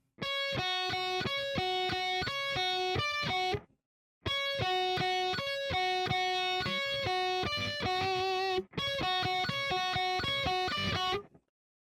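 Steady, rhythmic guitar notes picked in a repeating pattern, with a distorted, bright tone, played in three runs separated by short pauses.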